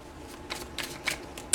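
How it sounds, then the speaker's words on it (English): Tarot cards are shuffled close to the microphone in several quick, papery bursts that end in one sharp snap. "Sorry, I'm shuffling right to the camera."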